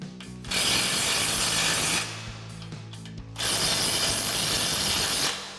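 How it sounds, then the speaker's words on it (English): An impact wrench with a 22 mm socket tightens bolts on a 2024 4WD Toyota Tacoma during a front leveling kit install, giving two loud hammering bursts separated by a short pause, with no talk. "Then we'll go ahead and tighten these back down with our 22 mil socket on our impact."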